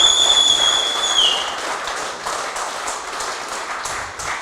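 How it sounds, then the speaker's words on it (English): A crowd applauds the Queensland Open bream fishing champion at an outdoor final presentation, a steady patter of clapping at moderate distance, briefly accompanied by a high whistle tone at the start. "Big round of applause for our Queensland Open champion"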